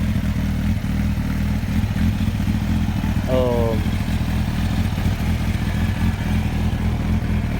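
A 2000 Kawasaki ZX12R motorcycle engine runs steadily at a low, even idle close by, with a brief higher whine near the middle and no talking.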